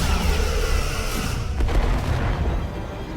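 Starship weapons fire in the Star Trek Resurgence game, a dense, continuous rumbling barrage of booms and bursts that stays loud throughout with no talk, thinning slightly toward the end.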